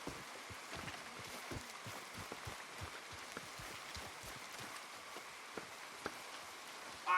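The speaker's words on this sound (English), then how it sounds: "Come on, it's raining." Rain falling in the Red Dead Redemption 2 video game, a steady patter of drops on surfaces with scattered sharper taps throughout, moderately quiet and continuous.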